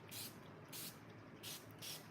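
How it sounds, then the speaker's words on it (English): Four quick hissing spritzes from a spray bottle of water onto a mixed media art piece, evenly spaced and fairly quiet, with near silence between them. "So I'm just spraying some water on here."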